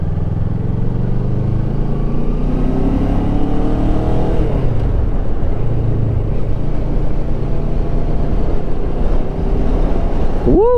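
A Kawasaki ER-6f motorcycle runs at full throttle on a German Autobahn, its engine a loud, sustained drone climbing in pitch and then holding high under heavy wind roar.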